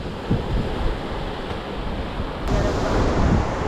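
Ocean waves wash up near the shore at night, a steady, loud roar of surf with wind buffeting the microphone and a swell building toward the end.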